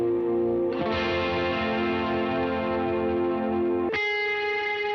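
An electric guitar rings out big sustained chords soaked in a shimmering chorus effect, with a chord change near the end and no talking.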